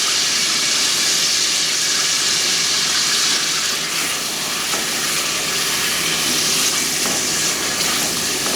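Garlic ginger paste frying in a pan of hot oil for a dal gosht with makhana, giving a loud, steady, broadband sizzle and hiss that carries through without a break and with no voices.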